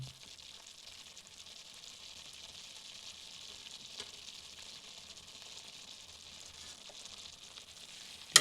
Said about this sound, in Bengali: তো এখানে 5 মিনিট ছানাটাকে ভাজার পর এর মধ্যে খেজুর গুড় দিয়ে দেবো।